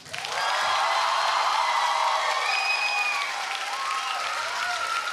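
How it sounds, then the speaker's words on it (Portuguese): An audience at a music-based English lesson contest applauds a contestant, steady and full clapping with some cheering mixed in, holding at an even level throughout. "Aplausos para Chauana"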